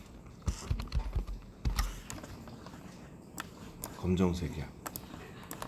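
Scattered keystrokes tap on a computer keyboard in short bursts while text is entered in 3D rendering software, close and fairly quiet, with a person speaking briefly partway through.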